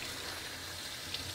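Tap water runs steadily to rinse coffee off an Apple iPad screen, a soft continuous hiss and splash at low level with no talking.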